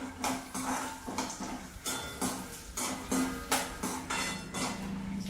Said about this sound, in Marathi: बदाम घालूया बदाम पण भाजून घ्यायचं नुसता भाजून घ्यायचंय